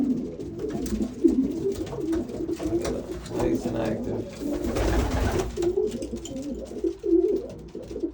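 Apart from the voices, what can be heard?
racing pigeons in a loft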